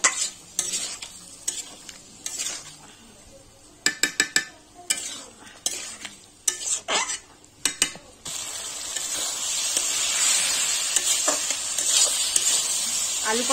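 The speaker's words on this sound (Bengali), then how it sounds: "আলু পটলটা ভালোভাবে কষি কাট।" Potato and pointed gourd fry in a pan with a run of sharp clattering stirs and scrapes of a metal spoon, then settle into a loud continuous sizzle.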